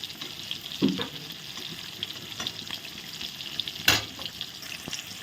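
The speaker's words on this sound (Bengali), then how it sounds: "দেখো বেগুনগুলো ভাজা হয়ে গেছে এখন আমি তুলে নিচ্ছি" Eggplant slices frying in oil give a steady, moderately quiet sizzling hiss, punctuated by two sharp clinks of a utensil against the pan.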